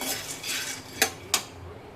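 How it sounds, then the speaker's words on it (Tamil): Peanuts are dry-roasted and stirred in a metal kadai, with a soft scraping shuffle and two sharp clinks of a spoon against the pan, fairly quiet. "அதை வந்து வானலியில் போட்டு நல்லா வறுத்துக்கணும்"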